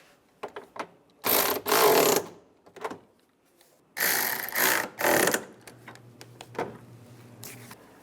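Bolts on a 2002-2008 Dodge Ram 1500 water pump bypass tube being tightened with a hand tool, giving several short bursts of ratcheting clicks with pauses between, close and fairly loud, with no talking.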